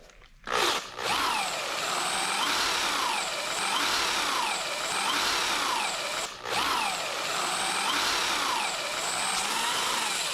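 A power tool spins sandpaper against a pitted idler arm from a VW Super Beetle. It makes a loud, steady, close whine with a rhythmic cyclic wobble, and the tool cuts out briefly twice.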